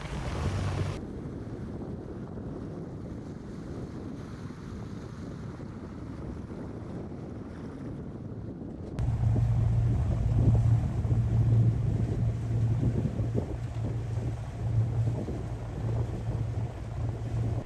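Steady wind rush and water noise aboard the 43-foot sailboat Wicked sailing near Isla Caja de Muertos, Puerto Rico, with a low hum that grows louder partway through; no talking.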